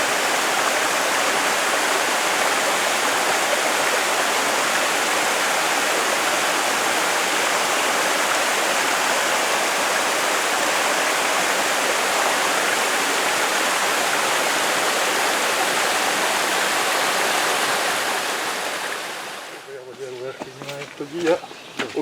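A mountain stream pouring down from the Carpathian peaks makes a loud, steady, close rushing roar that runs unbroken for most of the clip, then drops away abruptly near the end, leaving faint handling noises.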